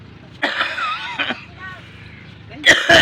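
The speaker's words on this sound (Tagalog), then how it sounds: "Ay, nako, inuubo pa." A person coughs and clears their throat in a few rough bursts, close and fairly loud, with a louder harsh burst near the end.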